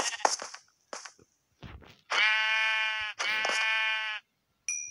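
Sheep bleating in a modded video game, several clear bleats close up: short broken calls first, then two long sustained bleats, with a quick clipped one at the end and silence between.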